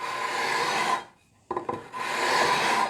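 Steady, close rasping strokes on the fret tops of a scratch-built guitar as black residue is rubbed off. The strokes break for a brief pause midway, then resume at the same rhythm.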